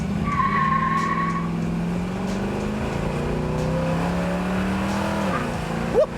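A restored 1968 Chevrolet Camaro SS accelerates hard from a standing start, its engine roaring loud and steady throughout with rising tones and a brief tire chirp near the end.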